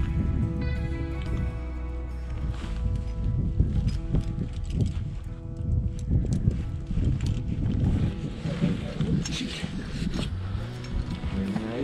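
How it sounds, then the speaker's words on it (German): Gusty wind on a high alpine mountain ridge, the Großvenediger, buffets the microphone with low rumbling bursts, under a steady tonal hum, continuous throughout. "Ein wenig windig"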